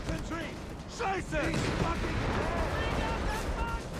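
Machine guns firing in a Company of Heroes 3 battle, with German guns and a British Vickers in play: dense bursts of rattling gunfire and battle noise fill the whole stretch, while a commentator talks over it.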